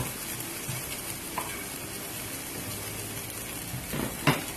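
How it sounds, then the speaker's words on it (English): Onions and garlic fry in a pan for shrimp fried rice and keep up a steady close sizzle. Stirring and scraping are heard throughout, with a louder utensil clank near the end. No one talks. "And I'm just combining the garlic and the onion together."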